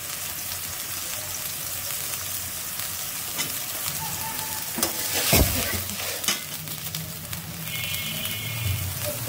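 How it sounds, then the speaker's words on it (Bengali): Onions with ginger garlic paste fry in a pan, a constant hiss broken by several scraping stirs and one sharp utensil knock near the middle, with a faint hum underneath and no talking. "পেঁয়াজটা একটু লাল লাল করে ভেজে নিচ্ছি। ওই আদা রসুন বাটা দিয়ে দিচ্ছি"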